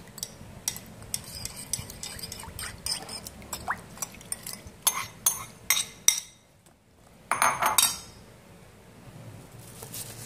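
Green papaya salad being tossed with dressing in a bowl: close, irregular clinks and scrapes of a utensil against the dish, with a brief pause and a denser burst of mixing near the end.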